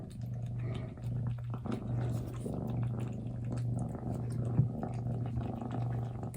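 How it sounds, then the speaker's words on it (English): Young kitten, nearly three months old, purring steadily while eating, a soft low rumble close to the listener with faint chewing and small clicks, no talk. "Just purring and eating and purring."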